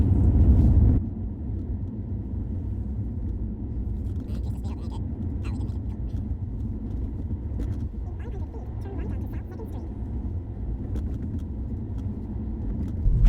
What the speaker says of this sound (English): And the car makes the turn.